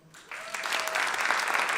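A comedy show audience breaks into applause, the clapping swelling quickly from quiet into a dense, sustained wash of many hands.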